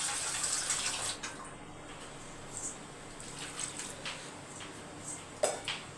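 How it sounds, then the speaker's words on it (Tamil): Water is poured into a pot of soaked dal and vegetables for sambar, a soft, faint splashing and trickling with a few light clinks of the pot, no talking. "நான் காய் முழுகிற அளவுக்கு தண்ணி ஊற்றிருக்கேன்"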